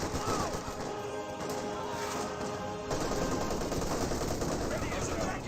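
A .30 cal machine gun rattles in sustained dense bursts during a Company of Heroes 2 battle, blended with other gunfire and impacts while a voice talks over the action.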